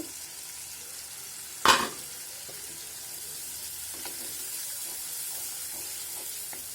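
Spices fry and get stirred in a pan: a loud metallic clank of the spoon early on, then a steady sizzle with soft scraping and small knocks as stirring continues.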